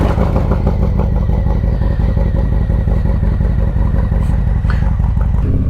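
Harley-Davidson Sport Glide fitted with a Redshift 468 cam runs on a dyno, its loud, steady engine rumble and clatter filling the whole stretch up close, with no talking over it.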